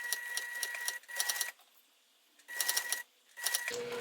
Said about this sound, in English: I'm just sewing a few stitches at a time and constantly making sure that both edges are meeting right there at my seam allowance guide